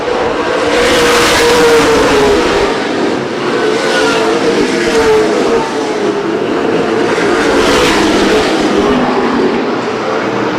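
Late model stock cars racing at Winchester Speedway, a loud, steady roar of many engines passing with rising and falling surges, continuous throughout with no talk.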